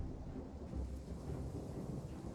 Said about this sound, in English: it's raining, so the forest probably won't catch on fire